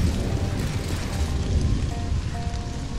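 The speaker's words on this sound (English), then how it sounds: "It's raining!" Steady, dense rain hiss in the video game Stranded: Alien Dawn, a continuous loud wash of falling rain with a faint low rumble beneath and no talking.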